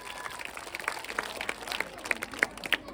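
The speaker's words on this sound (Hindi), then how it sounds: "जोरदार ताली से तुम लोग स्वागत करो" Students clap at a school Independence Day celebration, a scattered run of distinct claps with louder individual hits over a soft background crowd murmur.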